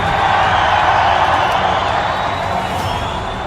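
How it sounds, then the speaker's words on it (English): A wrestling arena crowd roars and cheers in a dense, unbroken wall of noise that stays loud and steady throughout, easing off only slightly near the end. "The roar of the crowd."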